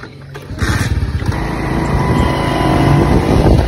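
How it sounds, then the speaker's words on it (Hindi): A motorcycle engine fires up nearby and settles into a loud, steady run that builds gradually as the bike is ridden off, with no talking over it. "चलो चलें, मैं अपना बाइक निकालता हूँ।"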